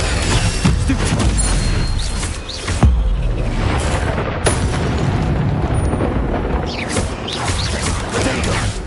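A stunning spell fires in Hogwarts Legacy on PS5, a loud burst and boom breaking through dense, continuous game noise, with further crashing impacts trailing off over several seconds.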